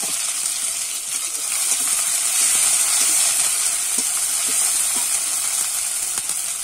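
Ginger and garlic paste hits hot tempering oil in a pan, giving a loud, steady, close sizzle and crackle that holds without pause.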